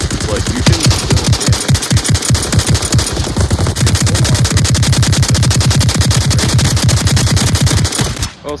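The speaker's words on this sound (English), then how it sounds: "This LMG is also good for semi-automatic fire." Rapid bursts of light machine gun fire in the VR game Onward, close and loud, in a steady rattling stream that runs almost continuously before cutting off abruptly.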